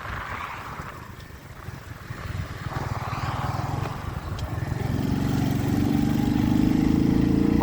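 Kuba SJ 50 Pro motorcycle engine droning steadily as it climbs a hilly road, growing louder and deeper toward the end, with wind buffeting the microphone throughout.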